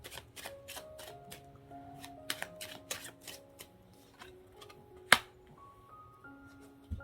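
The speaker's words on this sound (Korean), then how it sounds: "타로 카드도 한번 뽑아보도록 할게요" Tarot cards being shuffled and drawn for a weekly reading, heard as a run of soft, quick card clicks and flicks with one sharper snap partway through, close and fairly quiet over faint background music.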